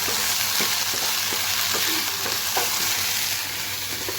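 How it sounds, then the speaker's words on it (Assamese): Boiled kidney beans (rajma) frying in ghee, with a steady close sizzle throughout and repeated soft scraping strokes as the beans are stirred in the pan. "ৰাজমাটো ভালকৈ ভুনি ভুনি লাষ্টত অকণমান ঘি দিছোঁ"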